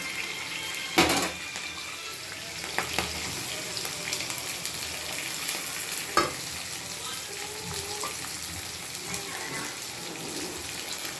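Onion and green chillies fry in a hot pan in a village kitchen, giving a steady close sizzling hiss broken by a few soft clinks and thuds.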